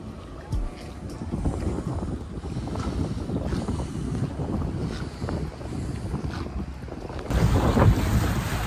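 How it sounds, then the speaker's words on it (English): Strong wind buffets the microphone out on open water aboard a small speedboat, a steady rushing roar with gusts, swelling louder near the end. "We're out on the water. It's a little windy"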